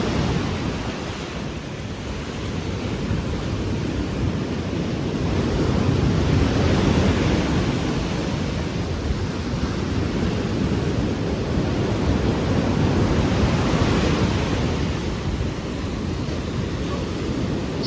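Rough sea surf on Chaweng Beach, Koh Samui, roars in a continuous wash of breaking waves with gusty wind, loud and close, swelling and easing without voices.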